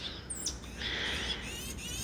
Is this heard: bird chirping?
yes